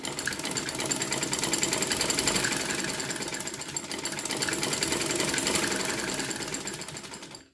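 A sewing machine stitches a fabric sleeve trimmed with cutwork and lace, running in a steady, fast mechanical rhythm close by for the whole stretch, with no voices.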